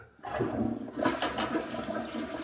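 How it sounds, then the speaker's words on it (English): Toilet flushing with a BioBidet SlimEdge bidet attachment installed, a loud continuous rush of water that surges after a brief quiet start and stays steady to the end. "And then I'm going to take and flush the toilet."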